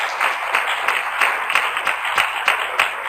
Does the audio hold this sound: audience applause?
yes